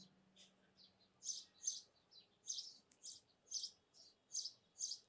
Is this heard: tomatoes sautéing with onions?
no